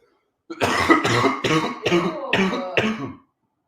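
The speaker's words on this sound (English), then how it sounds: "Once I start talking too much, my throat dry out. That gets me coughing." A man coughs six times in a quick, even series, each a loud, close, harsh burst from a dry throat, with no talking.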